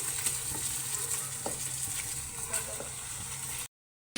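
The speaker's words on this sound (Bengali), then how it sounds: "এখন আমি চিংড়ি মাছটা ঢেলে দেব" Prawns hit hot frying masala with a steady close sizzle and a few soft clinks, then the sound cuts out abruptly near the end.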